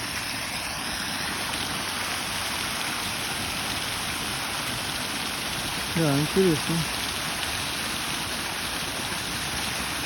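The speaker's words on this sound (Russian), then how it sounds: "Это Москва-река." Water of the Moskva River rushing steadily and strongly, a constant close broadband roar, with a brief voice speaking partway through.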